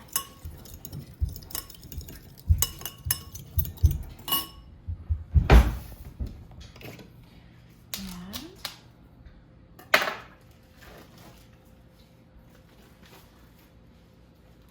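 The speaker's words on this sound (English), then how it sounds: "I am going to use a fork to stir up my seasonings though." A fork stirs seasonings in a bowl while chicken and vegetables are prepared for roasting. Close, irregular clinks and taps come in quick clusters, with a few sharper knocks, then thin out.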